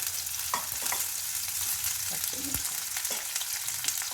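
Onions frying in a pan on a home stove, a continuous close sizzle with occasional scrapes and stirring knocks from a utensil, no talking.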